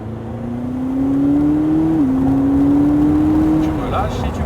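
A McLaren sports car engine rises steadily in pitch as it accelerates, briefly dips as it shifts gear, then climbs again, loud and close.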